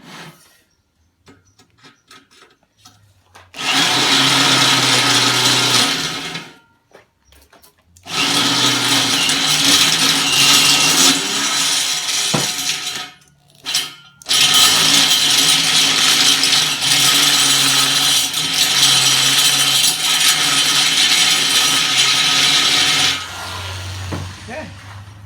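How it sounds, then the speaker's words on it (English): A power drill with a step drill bit grinds loudly through metal in three long bursts separated by short pauses, fairly close, with no talking over it. "I'm going to use this step drill here, make it bigger"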